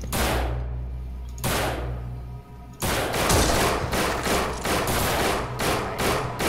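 Repeated gunfire in the zombie video game No More Room in Hell, loud broadband bursts coming in uneven volleys, with a brief lull before a denser run of rapid shots.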